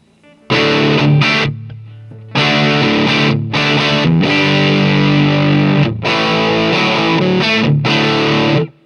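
A heavily distorted electric guitar through a Helix amp model with the gain turned up plays loud chugging chords and sustained crunchy bursts, separated by short pauses, with no talking.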